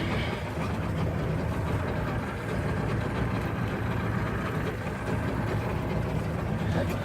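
A car engine of about 1.5 litres idles steadily and alone at close range, a low, continuous rumble that holds an even level throughout.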